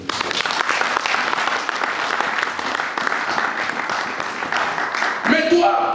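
A church congregation breaks into loud, sustained applause and cheering that fills the space steadily, with a brief surge of voices near the end.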